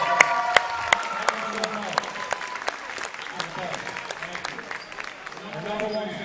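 A crowd in a high school basketball gym on senior night applauds for Miss Gonzalez, a sustained round of clapping with scattered sharp claps while a voice speaks over it.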